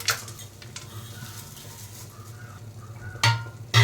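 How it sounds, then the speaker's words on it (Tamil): Dried chillies, cinnamon, cloves, a bay leaf and poppy seeds dry-roast in a pan for chicken gravy, with faint rustling and scraping as they are stirred, a low hum underneath and two sharp louder scrapes near the end. "இதில் சேர்த்துட்டு லைட்டாக வந்து எல்லாத்தையும் ஃப்ரை பண்ணிக்கலாம்."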